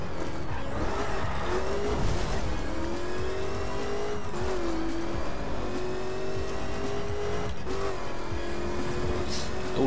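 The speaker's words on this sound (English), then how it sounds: "A lot of wheel spin." A Chevrolet Corvette Stingray C7 in The Crew racing game spins its wheels, a loud sustained engine roar with revving pitch shifts and tire squeal, a voice talking briefly over it.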